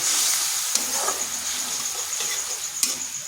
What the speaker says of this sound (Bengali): এরপর এখানে দিয়ে দিচ্ছি সামান্য একটু জল যাতে মশলাটা না পুড়ে যায়